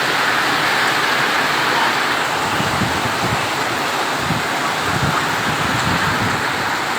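Night rain falls steadily in Naria, Shariatpur, a dense, even hiss that stays loud and continuous throughout with no voices.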